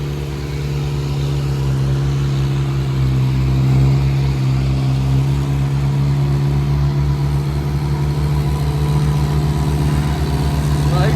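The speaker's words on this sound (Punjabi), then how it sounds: "ਦੋ ਟਰੈਕਟਰ ਤਾਂ ਆ ਗਏ ਆਪਣੇ ਤੀਜਾ ਟਰੈਕਟਰ ਪਿੱਛੇ ਆ" A New Holland 3630 4x4 tractor hauling a trolley near a stone crusher runs with a steady, loud, low diesel drone, constant and close for the whole stretch with no talk.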